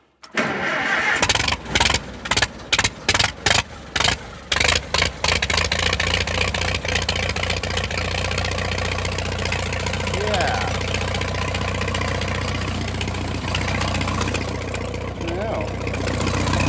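A Massey Harris 44 tractor engine cranks in a rapid series of stuttering bursts, catches, and settles into a loud, steady, close idle with a rhythmic throb that runs for the rest of the clip.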